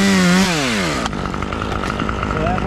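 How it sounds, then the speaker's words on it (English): A chainsaw revs loudly with falling pitch at the start of a tree-removal job, then settles into a steady, close idle drone for the rest. "I hate starting the saws, so I just let this bad boy idle."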